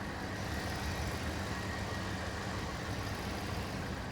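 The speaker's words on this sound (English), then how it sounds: "You hear those fuel injectors, but nothing's too ticky" A car engine idles steadily at close range, a continuous low rumble with a faint, even ticking of fuel injectors running through it and no voices.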